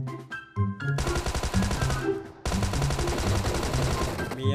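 Gunfire in the BGMI mobile video game: rapid automatic bursts rattle loudly and continuously, broken by a short pause, then resume in another dense sustained burst.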